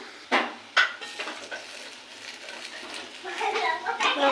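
Banana flower kofta fritters fry in oil in a pan with a soft, steady sizzle, broken by a few sharp clanks of a utensil against the pan early on. The sizzle swells louder toward the end.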